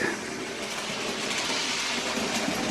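A steady, continuous whirring drone of a Bachmann OO gauge Caledonian 812 model locomotive motor, with a faint rattling clatter running underneath throughout.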